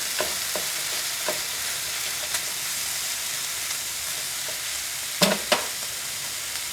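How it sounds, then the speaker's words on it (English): Ground beef browns in a pan with a steady, close sizzle, broken by a few soft scrapes and taps as a utensil breaks the meat apart, with a couple of sharper clanks near the end. "Alright, so we've got our beef in here. We'll break that up a little bit."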